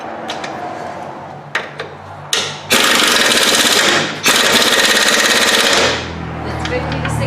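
A pneumatic impact wrench tightens the nut on the idler arm of a GMC Jimmy S15 / Chevy S10. It runs in two loud, sustained rattling bursts after a few short taps, with voices nearby.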